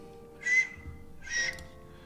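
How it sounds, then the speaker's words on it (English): Two short, bright whistled notes sounding close, each rising briefly and fading, separated by a pause and heard alone over a quiet background hum. "Whistling and all sorts."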